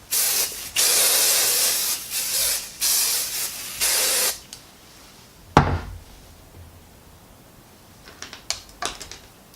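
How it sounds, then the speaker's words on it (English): Hairspray hisses onto a poodle's groomed coat in several loud, steady bursts with short gaps, followed by quieter handling clicks and taps. "I'm going to add a final spray to my entire hair to make sure everything's going to stay in place"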